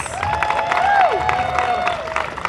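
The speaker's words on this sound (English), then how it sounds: "we want a big round of applause for Les Chanteuses from the Public Academy for Performing Arts" An outdoor crowd at a balloon event applauds a girls' choir from a performing arts academy, scattered clapping and cheering under a crackly, windy open-air background with a whistling tone.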